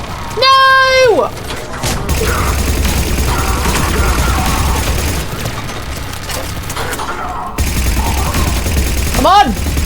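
Turret fire in Mass Effect 3 fills the scene as a dense, continuous barrage of loud gunfire and booms. It is joined by rising and falling electronic tones near the start and end.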